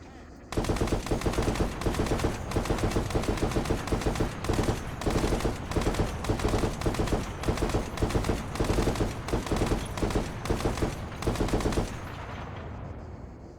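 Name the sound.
gunfire at tank in Arma 3 video game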